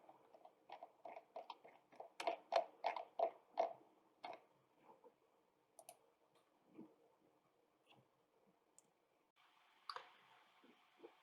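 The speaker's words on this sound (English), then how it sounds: "You can navigate this by clicking and dragging with the mouse" Quiet, crisp computer mouse clicks, a quick cluster at first and then sparser single clicks with brief soft scraping, all close and faint, with no voices.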